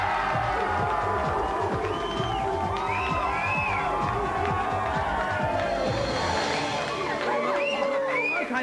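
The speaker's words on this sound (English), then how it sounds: "Please give a big GamesMaster cheer for the Games Mistress." A TV studio audience on the early-1990s video game show GamesMaster cheers loudly and continuously, with whoops and shouts blending into a dense, sustained roar from start to finish.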